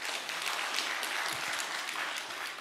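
A church congregation at a seminar for new members in Incheon and Bucheon breaks into brief, brisk applause, a full, steady burst of many hands clapping together without speech.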